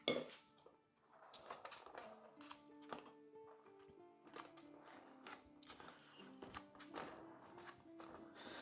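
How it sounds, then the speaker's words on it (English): A flat metal scraper works over the icing of a chocolate Guinness cake, giving light clinks and taps against the cake board and plate, close and fairly quiet throughout. "Now I'm just going to get my flat scraper, and I'm just going to give it a whiz"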